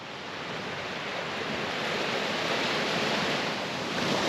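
Ocean waves washing up a beach near a coastal trail at what may be high tide, a steady close roar of surf and rushing water that swells slightly, with no voices.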